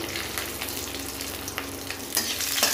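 Dried red chillies, bay leaf and green chillies fry in hot oil, a continuous close sizzle with small pops and crackles that flare louder near the end.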